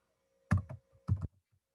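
Short bursts of keystrokes on a computer keyboard while entering a complex password, two quick clusters of clicks about half a second apart with a faint steady hum underneath.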